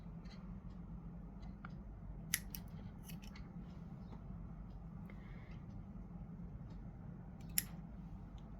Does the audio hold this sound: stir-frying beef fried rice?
no